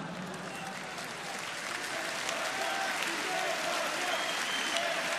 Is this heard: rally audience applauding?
yes